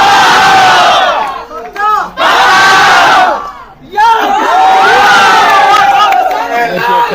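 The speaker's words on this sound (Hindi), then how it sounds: "ये खेसारी लाल यादव का जो नारा लग रहा है भाई" A large crowd at a political rally for Khesari Lal Yadav chants a slogan in loud, repeated bursts of massed voices, with brief dips between the waves of shouting.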